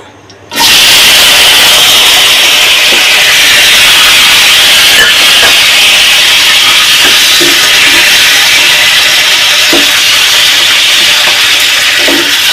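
Chopped onions hit hot oil in a pan and break into a loud, steady sizzling hiss that starts abruptly and carries on unbroken, with faint pops and clinks scattered through it.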